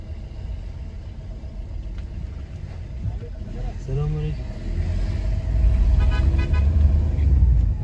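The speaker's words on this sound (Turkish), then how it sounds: "Arkadan korna çalarak" A car horn toots a few short honks from behind amid rumbling traffic and engine noise on a road to a village in Erzincan, Turkey, with voices talking in the background.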